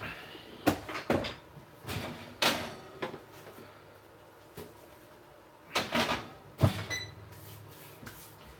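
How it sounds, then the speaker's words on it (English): A Breville toaster oven is loaded with food and its door shut: a quiet series of sharp clicks, clacks and knocks from handling and closing, spaced across a mostly hushed room. "Gonna put this back in the Breville, the most expensive toaster oven on the planet."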